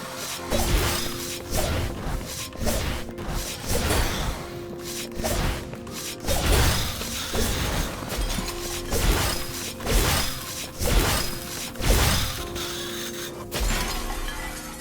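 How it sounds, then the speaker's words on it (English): Crystals shattering in the fantasy shooter game Amid Evil, a string of bright breaking crashes with whooshing swipes and thuds recurring every second or two over a steady game soundscape, without any talk. "Oh, I love the crystals. They did such an amazing job on the sound in this game."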